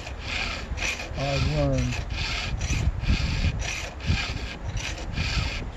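Steel file rasping across the teeth of a rip chain on a chainsaw, a steady series of rhythmic strokes close up, with a voice speaking briefly early on.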